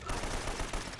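Gunfire in the game Uncharted, a quick clatter of several shots, faint and distant beneath a broad noisy wash.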